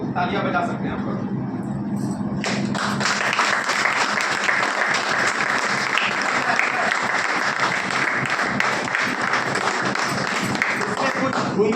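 Audience applause fills the room at an aloe vera juice product demonstration, starting after a brief spoken moment and continuing as dense, steady clapping from a crowd for about nine seconds.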